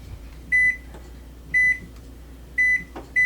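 A microwave oven hums faintly, broken by four loud, clear electronic beeps: short, evenly spaced tones, two of them close together near the end.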